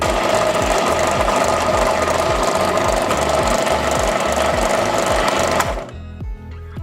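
A power drill grinds loudly into an old steel saw blade with a rapid, rhythmic thumping pulse, then abruptly stops near the end, leaving faint residual noise.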